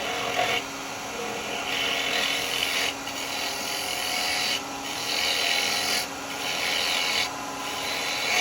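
A wood lathe spins a ring box blank while a spindle gouge cuts it, giving a continuous close rasping, rubbing hiss that swells and eases in repeated passes under a low motor hum.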